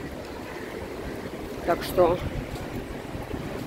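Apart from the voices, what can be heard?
strong wind blowing in Dubai street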